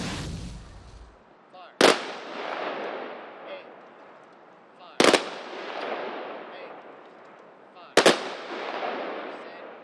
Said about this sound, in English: A 21-gun salute followed by the playing of taps capped off a ceremony